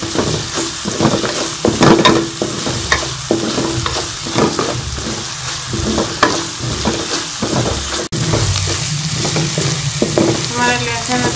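Garlic ginger paste fries with onions in a pan for chicken karahi, sizzling loudly and close while a spoon stirs and scrapes in repeated strokes, with no talking.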